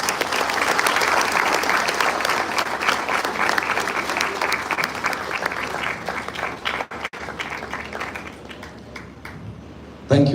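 Sustained applause from a large audience at a sports club's golden jubilee celebration in Beruwala, Sri Lanka, steady clapping that continues for several seconds before thinning out near the end.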